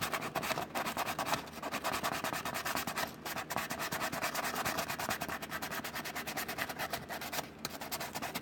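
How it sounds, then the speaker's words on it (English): Steady, continuous rubbing of sandpaper on a styrene RC car hard body, a dense scratchy sound at close range that runs without a break. "And this out here will need to be sanded too."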